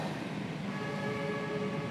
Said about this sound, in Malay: Hon lori. Ha, hon lori.